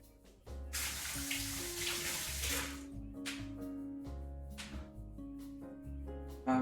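Tap water runs steadily into a kitchen sink for rinsing, a close splashing rush that continues for several seconds, with faint background music.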